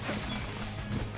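Vases smash in the Scarlet Nexus video game as a short, rough crash over continuous game noise.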